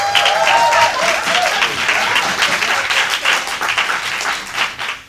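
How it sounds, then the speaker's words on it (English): A high school poetry slam audience breaks into sustained applause, loud and dense with individual claps standing out, a faint voice briefly heard early, before the clapping tapers off at the end. "Let's give her a round of applause."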